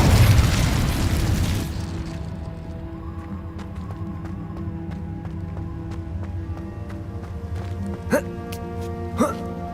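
A fiery Incendio spell cast in Hogwarts Legacy on hard difficulty: a loud booming burst of flame at the start that fades into a humming magical drone, with two sharp pops near the end.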